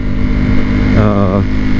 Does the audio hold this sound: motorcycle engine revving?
yes